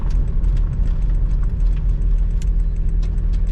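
A TDI diesel engine idling steadily, with a loud, continuous low rumble and a fine ticking clatter on top, close by and without talk.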